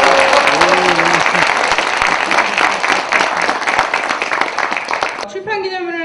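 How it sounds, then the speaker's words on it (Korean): Dense, loud applause from an audience at a book launch for Yu Miri's account of a summer trip to Pyongyang, North Korea, sustained for several seconds; a host's voice comes just before it and again as it cuts off. "여러분들의 큰 박수와 함성으로 시작하도록 하겠습니다"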